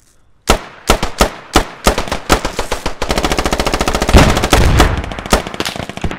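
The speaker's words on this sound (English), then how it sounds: "That marksman shooting at us." Rapid automatic gunfire from a marksman in a military squad video game set in an Iraqi city, sharp separate shots first and then a dense sustained burst, loud and close, with no talk.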